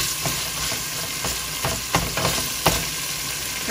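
Shrimp and broccoli sizzle steadily in a hot pan, with a constant frying hiss and periodic scrapes and clacks of a spatула stirring, close and loud with no talk.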